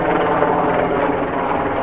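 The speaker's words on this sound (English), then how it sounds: "Got a helicopter flying overhead, of course, right when I'm trying to film." A helicopter flies overhead near an abandoned highway, a loud, steady rotor roar with throbbing low chop that holds constant throughout, with no voices.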